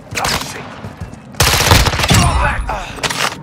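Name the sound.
gunfire in Warzone 2.0 DMZ video game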